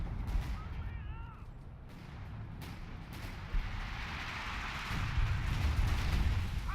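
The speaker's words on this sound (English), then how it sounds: "More artillery going down" Artillery barrages in a WWII strategy game set in the Battle for Caen, heard as heavy booming blasts and rumbling impacts that build louder toward the end, with a faint whistling shell passing early on.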